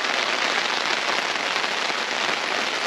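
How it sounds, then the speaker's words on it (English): Steady rain falling on a camping trip in Canada near a Toyota Tacoma, a dense, even hiss of drops pattering close by, continuous and fairly loud with no voices. "So the rain has started."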